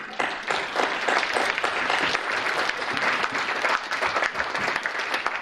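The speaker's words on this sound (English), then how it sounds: "Please clap." A conference audience gives sustained, dense applause welcoming Professor Indrani at a keynote address, a steady wash of many hands clapping with little talk.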